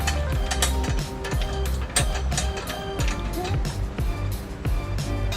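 Ratchet wrench snugging trailer hitch bolts to the frame of a 2009 Honda Odyssey, rapid close clicking in repeated bursts with metallic clanks between strokes.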